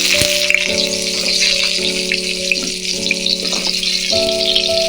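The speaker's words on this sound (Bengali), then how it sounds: "ওই তেলের মধ্যেই পটলগুলো ভেজে নেব" Pointed gourd frying in the same oil used for fish, in a kadai, giving a loud, continuous close-up sizzle with scattered spits, alongside a steady tonal hum from a nearby appliance.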